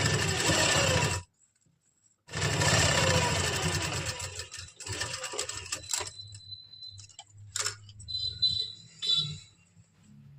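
A sewing machine stitching a kurti neck with big basting stitches whirs in two loud bursts, then gives softer intermittent runs and clicks.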